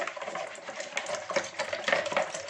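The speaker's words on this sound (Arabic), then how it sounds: "هجيب هنا بقى بولة وهحط فيها البيض بتاعي وهضربه كويس" Eggs whisked briskly in a bowl in a home kitchen while making soft cotton sponge cake, a steady busy scraping and tapping rhythm close by with no talking.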